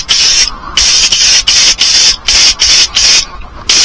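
Spray finish is applied to a vintage 1970s natural-finish guitar under restoration, heard as a loud hiss in about eight short regular bursts separated by brief pauses.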